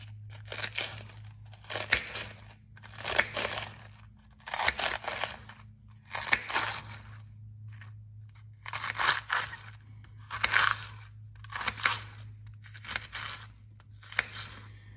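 Lettuce being cut for a crunchy taco salad: about ten crisp, crunchy chops in a steady rhythm, close and clear, over a low steady hum.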